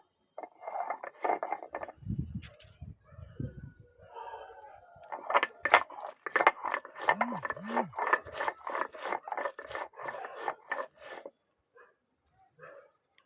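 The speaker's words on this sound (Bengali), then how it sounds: "এবার সরষেটাকে কাঁচা লঙ্কাটা দিয়ে আমি বেটে নেবো।" Mustard seeds and green chillies are ground by hand, giving a series of rough rubbing, rasping strokes in an uneven rhythm, close by, with someone speaking at times.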